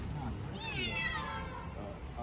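A cat trapped inside a car's bonnet meows once in a rising, drawn-out cry, heard close over a steady background hum.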